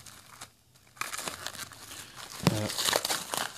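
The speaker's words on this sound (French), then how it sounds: "J'essaye de vite déballer pour pas perdre trop de temps." Plastic packaging crinkles and tears as a parcel of Biker Mice From Mars toys is quickly unwrapped, starting quiet then breaking into close, busy bursts of rustling and ripping.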